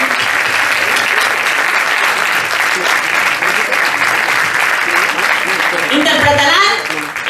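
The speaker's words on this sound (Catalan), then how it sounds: "Un fort aplaudiment." An audience at a film festival session applauds a urban dance school with loud, dense, sustained clapping. It continues steadily and swells briefly near the end before fading out.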